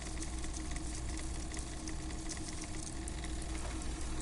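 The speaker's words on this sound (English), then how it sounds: "That's the sound of a Kvalsund crane." A Kvalsund harbor crane in Disco Elysium gives off a continuous mechanical drone, a grinding hum over low rumble with a constant crackling texture, steady and unvarying from start to end.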